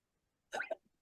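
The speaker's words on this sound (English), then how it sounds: "I got the hiccups." A single hiccup sounds close and clear in a quiet room, a short voiced burst with a tiny trailing catch.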